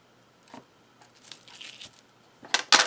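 A blade slices through a polymer clay cane for a retro mokume gane piece, giving a few soft crunchy, crinkling cuts that build to two louder bursts near the end, close and alone with no talking.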